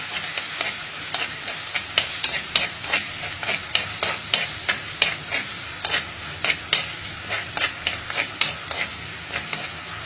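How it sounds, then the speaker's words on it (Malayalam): Fenugreek seeds fry in hot oil in a pan with a continuous sizzle, while a spoon stirs them in regular close scraping strokes, about two per second, and no voice is heard. "ഇത് ഒരുപാട് വഴഞ്ചൊന്നും പോകണം നമ്മൾ ജസ്റ്റ് ഒന്ന് എണ്ണയ്ക്കകത്തൊന്നിട്ട് ഒന്ന് മൂപ്പിച്ചെടുക്കുകയാണിത്"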